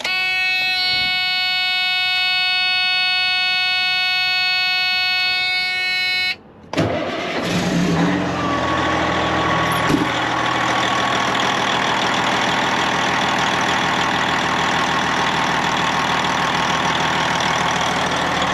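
A diesel engine with a newly replaced fuel line cranks and fires up after a short pause, then settles into a steady, loud, close idle that runs smoothly without sputtering, no speech.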